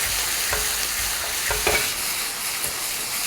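Minced pork stir-fried in a wok with a splash of Shaoxing huadiao wine gives a steady close sizzle, with spatula scrapes and stirring knocks over the constant frying hiss.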